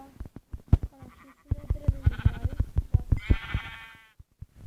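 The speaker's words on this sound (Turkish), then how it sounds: "Şanssız koyun çıktı bize" Sheep bleating in Minecraft survival: several short, wavering bleats come through clearly, one after another, the last one long and bright, with faint game sounds between them and no talk.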